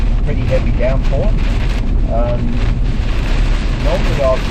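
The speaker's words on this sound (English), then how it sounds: "it's pretty heavy downpour." Heavy rain pours steadily in a constant roaring hiss with low rumble, loud and unbroken throughout, while a voice talks faintly over it.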